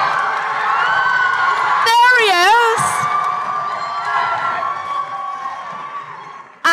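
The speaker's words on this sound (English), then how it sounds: "can we have a huge round of applause for Brandon Rogers?" Audience at a Comic Con panel in Los Angeles cheering and whooping loudly as a guest is introduced, a dense crowd roar with shrill individual shouts rising above it, sustained throughout and tapering slightly toward the end.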